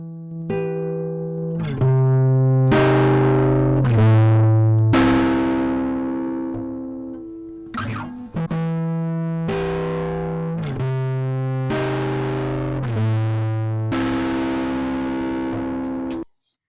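Diode analog simulation distortion from the DaKog Distort plug-in: a series of sustained, buzzing, harmonically rich notes, each held for a second or two and changing pitch, played loud and alone with short gaps between them.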